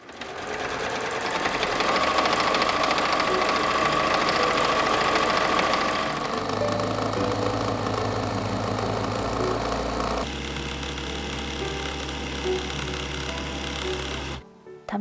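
A sewing machine stitches patchwork fabric scraps for quilting, running loud and close in a continuous mechanical whir with rapid needle clatter, shifting speed in a few steady sections before stopping at the end.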